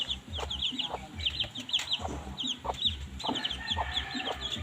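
Rhode Island chickens in a backyard garden give repeated close clucks and short calls in an irregular rhythm, with faint background noise.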